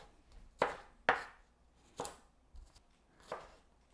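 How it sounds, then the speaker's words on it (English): A knife slices pointed gourd (parval) on a cutting board, producing five crisp separate chops at uneven intervals, close and fairly quiet, with no talking. "The parvar are all sliced up."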